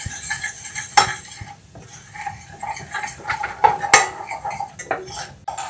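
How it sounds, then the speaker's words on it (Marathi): Flour roasts in butter in a pan over low heat while a spoon stirs and scrapes against the metal, giving irregular clinks and scraping over a soft, quiet sizzle. "मैदा आपण 1च मिनिट परतून घेऊया"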